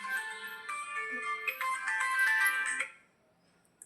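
A mobile phone ringtone for an incoming call plays loud and close as a bright melodic tone pattern for about three seconds, then cuts off into quiet.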